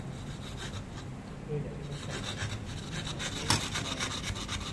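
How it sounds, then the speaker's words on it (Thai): Mother-of-pearl shell is rubbed and filed by hand for inlay work, a quiet, steady rasping scrape repeated in short strokes, with one sharper knock near the end. "เราถูอย่างนี้ก่อนก็ได้ฮะ ให้ให้ใบเขากินได้ยาว"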